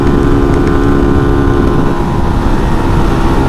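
A small RPS Condor 150 motorcycle engine drones loud and steady at high revs while cruising on a highway, with constant wind roar and no break in the engine note.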